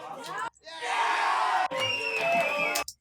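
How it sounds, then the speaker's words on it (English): Crowd samples from a sample pack play in quick succession: bursts of massed cheering and yelling voices, each cut off abruptly before the next begins. "So a few different kind of crowd samples."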